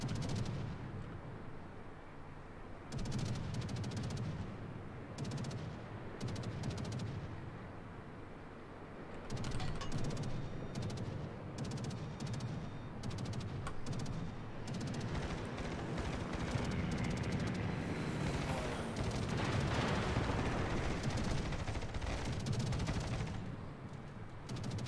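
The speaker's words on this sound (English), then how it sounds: "Here comes the aeroplane!" Continuous gunfire and artillery bursts fill a World of Warships naval battle, with a rumbling aircraft passing overhead amid the dense, steady clatter of shots.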